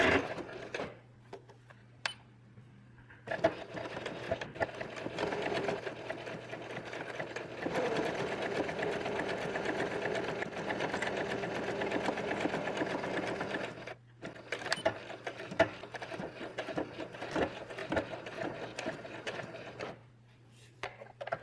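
A sewing machine stitches fabric one centimetre from the edge, its motor whirring in long continuous runs with brief pauses and a steady low hum underneath, close and clear.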